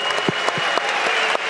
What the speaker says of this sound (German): Einen großen Applaus für beide Fighter.